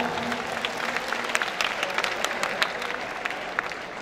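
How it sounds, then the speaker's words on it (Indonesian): An audience at SMK Negeri 6 Malang's school graduation in the Graha Cakrawala hall applauds the organizing committee with a sustained patter of many hands, moderately distant and even, with sharper individual claps standing out. "Aplaus buat panitia seluruhnya"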